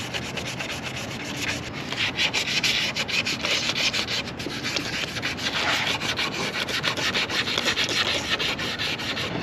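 Steady hand sanding with fine 2000-grit sandpaper on a Lexus SC430 headlight lens, a continuous close rasping scrub with a quick back-and-forth rhythm and no talking.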